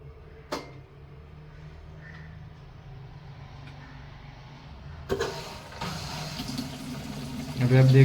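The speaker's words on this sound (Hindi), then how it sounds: "स्विच में से कुछ पानी ड्रम के अंदर आना चालू हो जाएगा" Water gushes steadily through the inlet valve into the drum of an LG automatic washing machine, a continuous near hiss that swells after a click, with a faint hum beneath.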